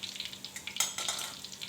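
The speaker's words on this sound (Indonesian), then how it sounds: "Kemudian goreng sampai matang atau sampai mengapung." Grilled egg rolls frying in hot oil give a steady, close bubbling sizzle with small crackling spits throughout and no talking.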